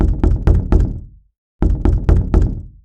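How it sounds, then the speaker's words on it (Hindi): A wooden room door is banged hard at night, two loud bursts of four heavy rapid knocks each, close and dry, separated by a short silence. "अचानक कमरे का दरवाजा जोर जोर से धड़धड़ाने लगा"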